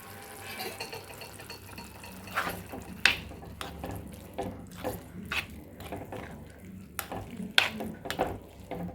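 Cooked cowpeas get stirred into masala paste in a pan while making payar thoran, with scattered scraping and clinking spoon strokes against the pan over a low, quiet background.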